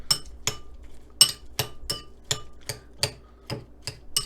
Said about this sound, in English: I'll give it a stir.